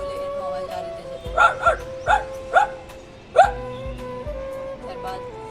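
A man imitates an English-breed dog barking, giving about six short yappy barks in an uneven rhythm, close and fairly loud over a steady background hum.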